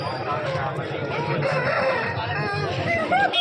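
A rooster crows amid a busy Sunday chicken market din in Vijayawada, with overlapping bird calls and crowd murmur filling the background throughout.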